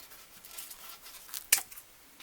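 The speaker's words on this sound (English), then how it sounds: "I'm going to take the kitchen shears and" Kitchen shears snip through bread to cut crouton cubes, giving a soft crisp cut followed by a single sharper snip, quiet and close.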